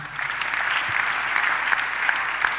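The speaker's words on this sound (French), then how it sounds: "Acclamons le Seigneur." A church congregation applauds to acclaim the Lord during a worship service, a dense continuous burst of clapping from a crowd that holds steady for a few seconds.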